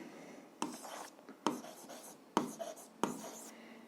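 A pen or pencil scratches out a graph of a linear equation by hand, in four short, close strokes separated by brief pauses in a quiet room.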